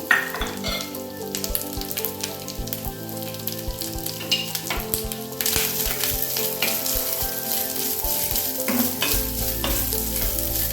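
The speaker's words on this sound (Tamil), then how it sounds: "அரை ஸ்பூன் நெய் ஊற்றி பொடிசாக நறுக்கி வச்சுருக்க தேங்காவை கொஞ்சம் வதக்கிக்கலாம்" Steady sizzling as finely chopped coconut fries in half a spoon of ghee, with repeated scraping and stirring clicks of a utensil in the pan, close and continuous, with no talking.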